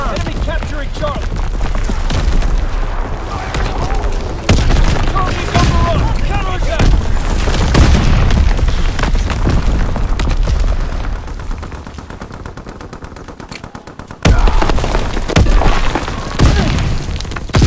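Call of Duty WWII fire strike explosions and gunfire thunder in heavy, continuous waves, with booming impacts and dense crackling shots, broken by a brief lull before another loud burst, while game voices call out over the din.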